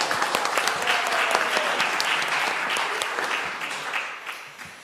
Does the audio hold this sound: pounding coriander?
no